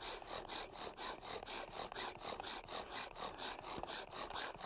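A wooden bow drill spindle grinds against a wooden fireboard under slow, gradual hand pressure, a rhythmic rasping rub that swells and fades with each back-and-forth stroke of the bow, close and steady.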